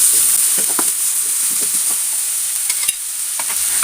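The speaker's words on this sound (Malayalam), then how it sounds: "2 സവാള പൊടിയായി അരിഞ്ഞതിട്ട് കൊടുക്കുന്നുണ്ട്. അതൊന്ന് വഴറ്റിയെടുക്കാം." Two finely chopped onions sautéing in oil in a pan for fish balls, a steady close hiss and sizzle with occasional scrapes and knocks of a stirring spoon.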